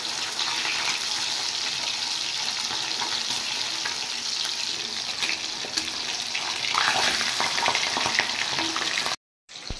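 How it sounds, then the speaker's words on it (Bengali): Pabda fish sizzle and spit fiercely in hot oil, a loud continuous crackling hiss with sharp pops, running until a brief cut near the end. "মাছগুলো এত ফাটছে, ক্যামেরার সামনে নিয়ে ধরে রাখতে পারছি না, হাতে তেল ছিটছে"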